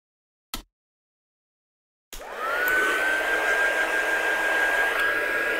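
A heat gun blasts on after a brief click and silence, drying oil-based ink with a loud, steady close-up whoosh of air and a faint rising whine.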